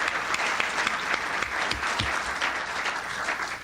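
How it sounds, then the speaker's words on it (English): Audience at a 1994 State of the City address in the Paramount Chamber gives presenters a sustained round of clapping, many hands close and distant blending into a steady roar with a few sharper claps standing out. "giving all four of the presenters one more big hand of applause"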